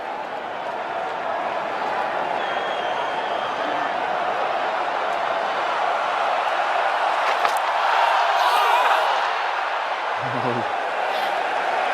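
Cricket crowd at an England v India match in 2021 during the final overs, with a steady broadband roar of many voices and scattered shouts held at constant loudness throughout, swelling slightly near the end.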